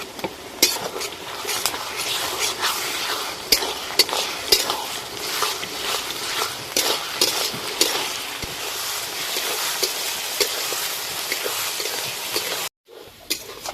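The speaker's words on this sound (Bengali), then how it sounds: "পেঁয়াজের সঙ্গে আদা রসুন ভালো করে ভেজে নিয়েছি।" Onion fried with ginger and garlic paste for chicken curry, a continuous sizzle under frequent scraping and clinking stirs of a spatula in the pan, cut briefly near the end.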